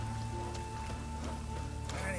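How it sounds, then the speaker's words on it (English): Rain falls in the video game The Witcher 3, a steady close patter on surfaces running under game music and someone talking over it. "And it's raining again."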